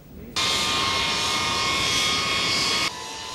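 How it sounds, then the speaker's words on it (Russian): An airplane carrying a prime minister lands at the military airfield in Chkalovsk, its engines a loud, steady roar that cuts in abruptly and holds for a few seconds before dropping away. "на военном аэродроме в Чкаловске приземлялся самолет с премьер-министром на борту"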